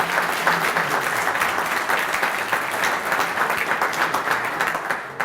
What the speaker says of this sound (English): A round of applause for all elected officials that are here.